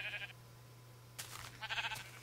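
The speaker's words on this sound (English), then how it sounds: "You're a nice black sheep." A black sheep in the Minecraft video game bleats twice. The two short, faint calls are separated by a pause, over a steady low hum, with no voices.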